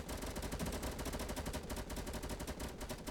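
Rapid automatic gunfire in the Fortnite video game, a dense, continuous burst of close, loud shots rattling on without pause.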